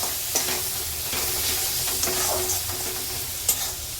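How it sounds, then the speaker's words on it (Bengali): Salted spice masala sautéing in a pan, a dense continuous sizzle up close with a few scraping stirs of the spoon, no talking. "দিয়ে চলো মশলাটা আবার একটু কষাতে থাকি"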